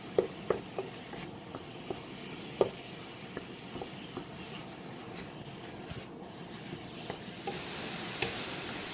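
Pork cooks in a pan while being stirred, giving a steady soft sizzle under scattered scraping and tapping clicks from the utensil. The sound is close and continuous, with no talking.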